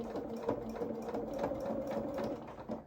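A sewing machine stitching coverall fabric for a small doll outfit runs in a steady, fairly quiet mechanical whir with a rapid rhythmic needle clatter, continuous throughout.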